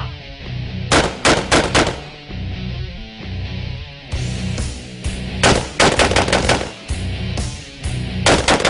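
Rapid bursts of machine-gun fire crackle in several volleys over a background of music, loud and close, with short pauses between the bursts.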